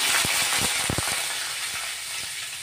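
Mustard seeds, cumin and curry leaves hit hot oil in a pan, giving a dense, close hiss of sizzling with a few sharp pops and crackles early on.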